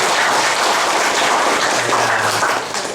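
A gathering in Solo claps for a group of mentors, a dense, even crowd applause holding steady before tapering slightly at the end.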